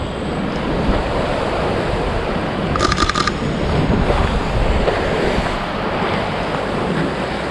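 Sea waves roll in at the beach beside Tharangambadi fort, a loud, continuous surging wash of surf with wind rushing across the microphone and a brief faint high chirp partway through.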